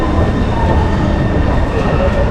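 Taipei metro train at Chiang Kai-shek Memorial Hall station, a loud, steady rumble with a low roar and faint high whine, heard from close on board or on the platform.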